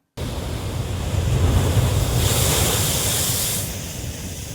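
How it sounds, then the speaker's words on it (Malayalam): Rough sea waves surging onto the Kollam coast during a sea incursion, a continuous loud roar of surf swelling in the middle and easing off, with wind buffeting the microphone. "കൊല്ലം ജില്ലയിലെ ആലപ്പാടും ആലപ്പുഴ ജില്ലയിലെ ആറാട്ടുപുഴയിലും കടലാക്രമണം ശക്തമാണ്."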